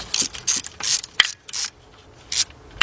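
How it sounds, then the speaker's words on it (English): A ratchet with a 10mm deep socket and extension loosens bolts on the lower intake manifold of a 2004 Chevy Monte Carlo 3.4, giving a series of close, sharp clicking ratchet strokes in short irregular bursts with no talking. "Now we're going to change our socket over to the 10mm deep and use our same extension."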